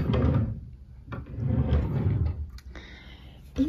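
Drawers of a newly bought wardrobe slide open and shut with rumbling wooden scrapes and a couple of knocks, close and fairly loud, ending in a sharper thud, with no talking over it.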